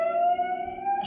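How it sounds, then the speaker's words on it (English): A siren wails from afar in a golden-age radio drama near a state prison, a steady, sustained tone holding level and clear with no voices over it. "And then I heard that siren in the distance."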